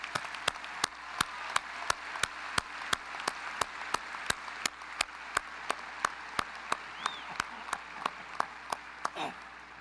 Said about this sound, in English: let's clap your faculty and all of the other people in the university